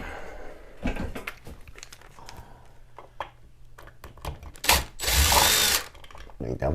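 Screws being backed out of a ceiling light fixture mounted on a metal electrical box, with rapid ratcheting clicks, scattered metallic taps and handling knocks, then a loud sustained whirring burst of a power driver near the end.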